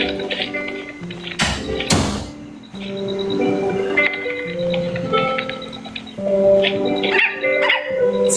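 A dog bark sound effect played during a TikTok live stream, sounding as a few sharp bursts near the start among music-like tones and busy background sound.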